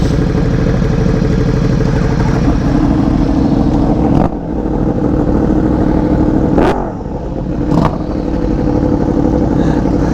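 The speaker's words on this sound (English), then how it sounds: "2 BMWs and 2 R1Ms and a Ducati. We're all gonna go ride together." A group of sport motorcycles, including BMW M1000RR, Yamaha R1M and Ducati bikes, rumble together in a loud, steady engine drone with a few sharp revs and clatters, close by, with no speech.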